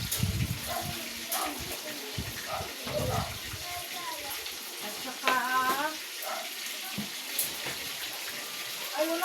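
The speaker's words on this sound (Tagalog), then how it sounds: "ako'y magigisa ng gulay" Vegetables sautéing in a pan at home for dinner, a steady hiss and sizzle with stirring clinks, under a voice talking.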